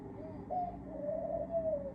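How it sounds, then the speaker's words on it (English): A pigeon or dove coos outdoors in a few soft, drawn-out calls, moderately close and clear against a quiet background, with no voices. "And the bird is singing, of course."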